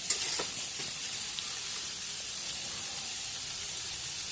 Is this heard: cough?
no